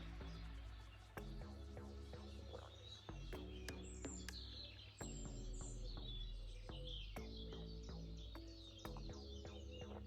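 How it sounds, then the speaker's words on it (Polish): Birds singing outdoors in the morning in the countryside, many chirps and tweets overlapping at a distance over a steady low background hum. "Ptaki pięknie śpiewają, chyba od trzeciej rano."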